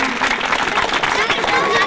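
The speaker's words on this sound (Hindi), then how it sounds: "धन्यवाद, तालियां।" Applause fills the hall at a teachers' prize distribution ceremony, a steady wash of many hands clapping together, loud and continuous with the murmur of the crowd mixed in.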